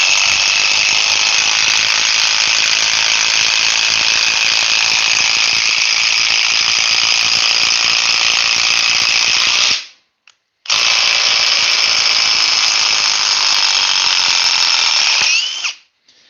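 A half-inch power tool runs at full speed, a loud, steady high-pitched whine that cuts out briefly, restarts, then winds down and stops near the end.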